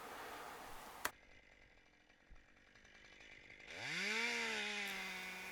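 A chainsaw engine revs up and runs at a steady high whine while cutting black oak branches, after a quiet idling stretch, with a sharp knock near the start.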